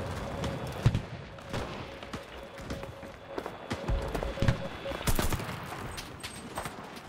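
Gunfire in the WWII shooter Enlisted, a scattered string of sharp shots with one sustained burst near the middle, close and distant mixed over battle noise, while someone talks in Russian.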